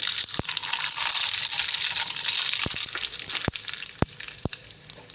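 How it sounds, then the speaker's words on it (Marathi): Mustard seeds crackle and pop in hot oil for a dhokla tadka, a busy frying hiss punctuated by several sharp, loud pops toward the end. "मस्त ते गरम झालं आहे आता तेल त्याच्यात आपण आता ही मोहरी टाकू"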